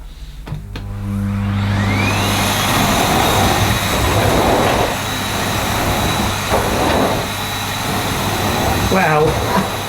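A Miele C1 Classic Powerline cylinder vacuum cleaner runs on a rug at a reduced suction setting, giving a steady, loud, close motor whine that holds throughout.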